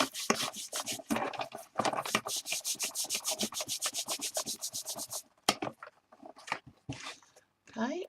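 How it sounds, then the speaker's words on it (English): Glue being rubbed firmly into paper for a craft project, a fast run of rhythmic scratchy strokes close by, then a pause and a few scattered rubs, with a voice speaking briefly. "really rub in that glue."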